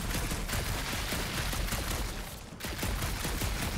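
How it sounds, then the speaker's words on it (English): Dense, continuous gunfire from the video game Guardians of the Galaxy rattles without pause, loud and close, with a brief dip just before a fresh burst. "Shooting your way out of every problem again, Peter?"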